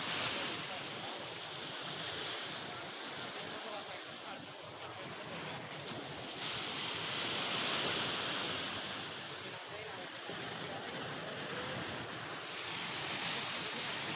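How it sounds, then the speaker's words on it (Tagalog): Steady roar of ocean waves and surf, swelling and easing continuously, with wind buffeting the microphone and no clear breaks. "Laki-laki ng mga alon"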